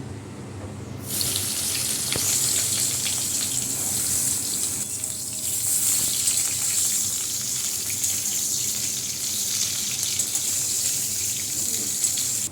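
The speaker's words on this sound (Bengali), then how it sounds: "বেগুনগুলো আগে একটু ভেজে নিই।" Eggplant pieces frying in oil in a pan give a loud, steady, hissing sizzle that starts abruptly after a second and continues evenly to the end.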